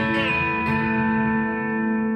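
A short electric guitar lick played at full tempo with a B-bender: bright sustained notes that rise and ring out over about two seconds, clean and close, with no voices.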